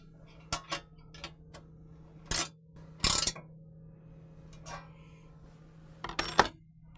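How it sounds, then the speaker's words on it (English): Metal tools clink and tick while nuts and bolts with flat and lock washers are snugged up with an Allen key and wrench on a Jeep Wrangler cold air intake bracket, giving a few sharp close clicks and scrapes over a steady hum. "Now with an Allen and a wrench, we're going to go ahead and just snug these up."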